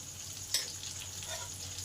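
Chopped onions sizzling in a pan, a faint, steady hiss with one brief tap partway through.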